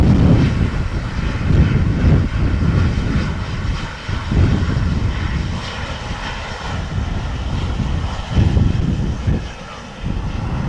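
A Ryanair aircraft lands at Dublin Airport during Storm Floris, its engines giving a loud, continuous roar with rising and falling swells and heavy wind rumble throughout.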